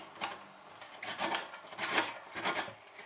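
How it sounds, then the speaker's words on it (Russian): Carrot being grated on a coarse Korean carrot grater, a run of quick rasping scrapes in an uneven rhythm, close and clear with no talk. "натираем морковку на специальной терке для корейской моркови или просто на крупной терке"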